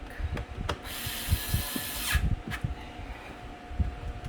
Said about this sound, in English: Strong enough to tighten these bolts down with enough torque.